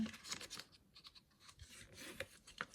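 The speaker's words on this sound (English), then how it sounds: "Just going to burnish all of the score lines here." Score lines on cardstock being burnished with a tool, producing faint, quick scratchy rubbing strokes close up, irregular and quiet throughout.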